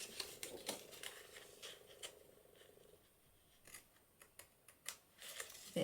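Scissors snip through paper in a papercraft junk-journal session, a string of short, crisp cuts close by, faint and uneven in rhythm with quiet pauses between.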